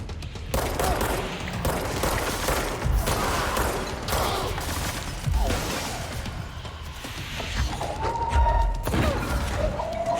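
Rapid bursts of gunfire and thuds from the action video game Control crackle loudly and continuously amid game effects and rumble.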